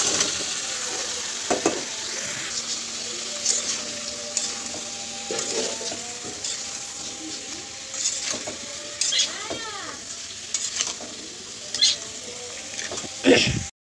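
Grated radish sautéed with spices in a pan gives a steady low sizzle with occasional scraping stirs, while a distant call to prayer drifts in the background.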